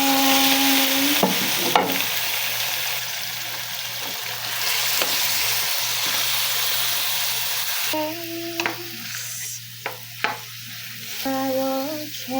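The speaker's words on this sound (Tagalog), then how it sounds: "Pwede na natin ilaglag ang chicken." Chicken pieces frying in a pot for tinolang manok, a steady loud sizzle punctuated by clacks and scrapes of stirring, with faint background music tones drifting in and out.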